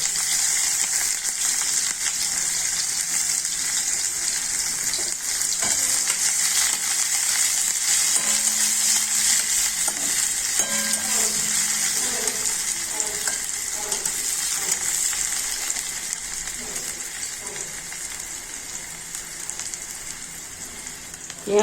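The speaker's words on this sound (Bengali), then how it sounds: "পেঁয়াজটা একটু ভাজা ভাজা হলে দেবো টমেটো আধখানা" Raw onion frying in a little oil in a home kitchen, a steady close hiss and crackle with intermittent stirring clatter, easing slightly in volume toward the end.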